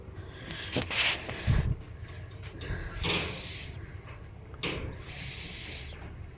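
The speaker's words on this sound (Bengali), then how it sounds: "এই যে আমার মাছের গ্রেভিটা ফুটে এসছে" Fish curry gravy bubbles in a pan with bursts of hissing and spitting that swell and fade several times, plus a few low thumps between them. No one talks.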